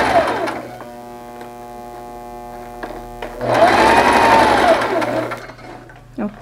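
A sewing machine stitches a fabric face mask in two bursts of fast, even whirring with a mechanical hum, close and loud, separated by a short pause.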